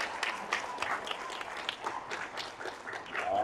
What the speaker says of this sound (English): let's give our Ontario team a round of applause